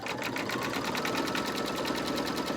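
An embroidery machine stitches the outline of a Santa magic key doorhanger, a loud, close, rapid mechanical whir with fast even pulsing that runs without a break.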